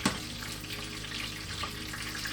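Food sizzles steadily in hot oil, a continuous soft crackling hiss at close range with no voices.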